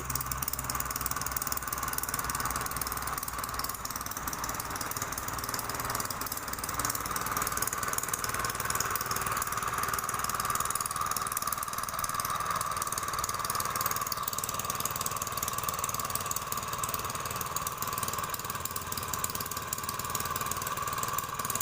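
A Honda Dio AF62 scooter engine idles steadily and evenly for a long stretch, a continuous close mechanical hum with no voices.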